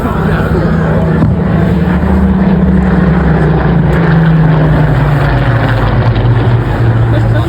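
World War II fighter aircraft flying with a Lancaster bomber at an airshow make a loud, steady droning propeller roar with slowly shifting engine pitch that holds throughout.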